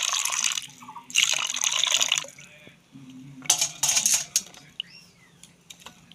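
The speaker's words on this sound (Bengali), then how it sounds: "এর মধ্যে অল্প জল দিয়ে দিচ্ছি।" A little water is poured into turmeric for a steamed prawn dish, heard as a few short, close splashing and trickling bursts with quiet gaps between them.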